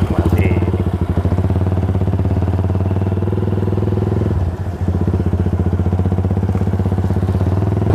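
A custom Jap-style 2010–2011 Yamaha Scorpio motorcycle out riding, its engine droning steadily and loud up close with a dense rhythmic thrum, briefly dipping mid-way before resuming.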